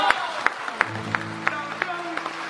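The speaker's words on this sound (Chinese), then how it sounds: "我们掌声" Scattered, rhythmic clapping from an audience greets a grandfather's ninetieth birthday at a Beijing movie event, sounding as sparse individual claps with steady tonal sound and voices behind them.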